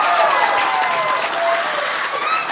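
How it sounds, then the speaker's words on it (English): Crowd at the Samoan stage of Polyfest 2023 in New Zealand applauds Prime Minister Chris Hipkins, a loud, sustained roar of clapping with voices and cheers mixed in, steady from start to finish. "Now I'd like to give you a round of applause"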